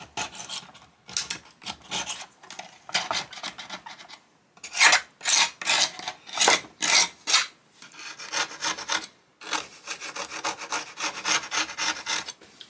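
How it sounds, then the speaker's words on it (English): Hot palette knives scraping old glue off the wood of an archtop guitar under rebuild, heard as repeated rasping strokes in uneven bursts with short pauses between, close and fairly loud, with no talk. "while we got our hot palette knives here, we can just go along and scrape some of this glue off"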